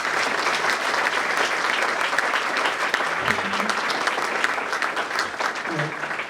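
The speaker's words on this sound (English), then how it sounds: "So I do want to give a round of applause for Seth for that." Sustained applause from an audience, steady dense clapping for several seconds without a break.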